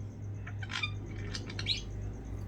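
Pet budgie giving a few short high chirps and squeaky notes, faint and close indoors over a low steady hum.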